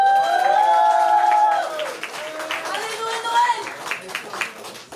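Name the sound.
audience applause welcoming a slam poet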